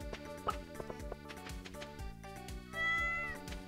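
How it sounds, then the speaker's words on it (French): A cartoon cat meows in Stardew Valley, a few short cries over bright, busy game music and plinking effects. "Le chat pleure."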